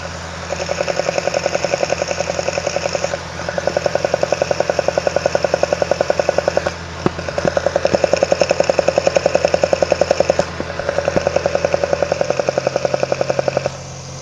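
A Kadett GS engine with a Solex C40 carburetor runs on ethanol at a fast, even idle, loud and close, with a short pause near the middle before the rhythmic chugging resumes.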